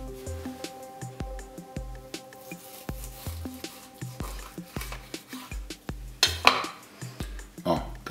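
A knife slices a rack of lamb into chops between the bones on a board, giving a run of sharp, evenly spaced cutting knocks, close and moderately loud, with brief clatter near the end.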